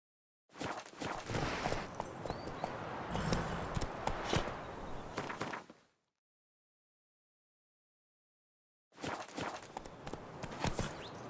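Horse hooves galloping in The Witcher 3, a steady busy clatter of hoofbeats for about five seconds, then silence, then the galloping resumes near the end.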